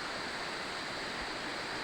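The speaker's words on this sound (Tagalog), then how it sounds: "Ayan, may ilog siya oh." A river flows beneath a steel hanging bridge, a steady broadband rush of water, close and continuous, with no talk.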